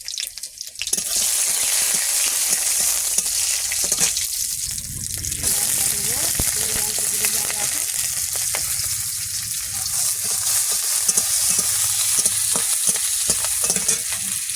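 Whole garlic cloves and cumin seeds hit hot oil in a kadai, giving a loud, continuous close sizzle with stirring scrapes throughout.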